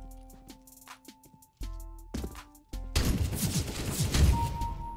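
Gunfire in Counter-Strike: Global Offensive crackles in several sharp shots, then a denser burst of blasts and rumble, heard through game audio at moderate volume.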